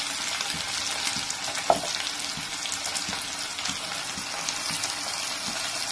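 Sliced onion and curry leaves fry in hot oil in a pan, a steady crackling sizzle throughout with a single sharp pop partway through, close and fairly even in level.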